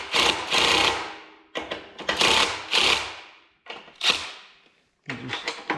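Bolts being run down with a power tool during a case drain install on a Yanmar VIO50-6 excavator, several close, loud bursts of buzzing rattle, each a second or so long, separated by short pauses.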